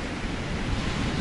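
Storm waves from the Black Sea crash and surge onto the shingle shore at Sochi, a loud, steady roar of churning surf and spray with wind buffeting close by.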